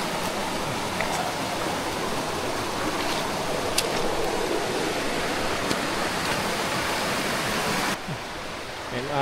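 River water flowing beside a riverside jungle trail on a long mountain hike, a loud, steady broadband rush close by with occasional brief clicks, easing somewhat in the last second.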